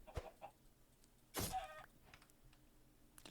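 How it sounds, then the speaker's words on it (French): Chickens in the Minecraft video game give a short burst of clucking near the middle, alone against a quiet, faint background with a few soft clicks. "Les poulets. Oh les poulets."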